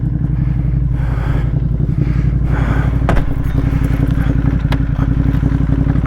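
A Ducati Monster 1200S motorcycle idles while warming up, a steady loud engine rumble with rapid even pulsing, close by, accompanied by a few light clatters and scrapes, no speech.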